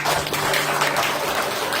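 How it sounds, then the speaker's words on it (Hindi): Audience applause at a weekly Ramayan gathering at a Christchurch temple, celebrating a birthday: steady, dense clapping from a crowd that fills the whole moment at an even level. "तालियों से हम बधाई देते हैं"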